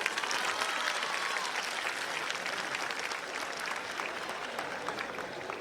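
A hall full of students and guests at an education event claps steadily, a dense, even patter of applause held at moderate loudness from start to finish.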